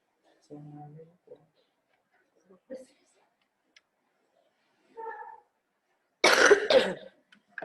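A few short coughs and throat sounds from a speaker with a cold and flu break up the quiet, ending in a louder burst of harsh coughing close to the mic.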